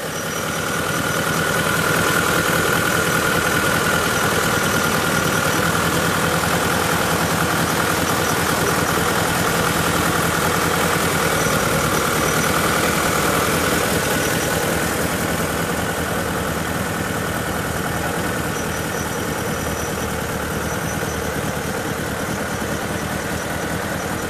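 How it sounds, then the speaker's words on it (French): A 1974 Citroen CX's water-cooled four-cylinder GS engine idles steadily up close, a loud, even hum with a faint mechanical tick that holds unchanged for over twenty seconds and has no talk over it. "c'est intéressant de voir que ce moteur qui est absolument unique fonctionne parfaitement"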